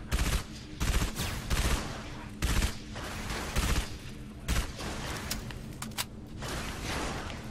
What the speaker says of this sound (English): Okay, who's shooting? Somebody's shooting.